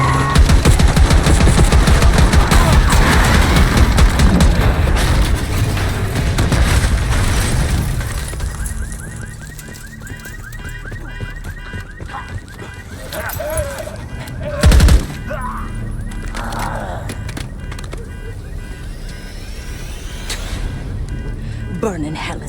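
Heavy gunfire in Call of Duty Black Ops 6 rattles in dense, continuous bursts with booming impacts at first, then thins to scattered shots and one sharp loud blast later, with game voices talking throughout.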